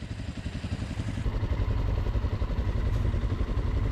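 A heavy motorcycle's engine runs with a steady low throbbing rumble, rising and holding steadier as the throttle is opened and the clutch is worked, continuous and close.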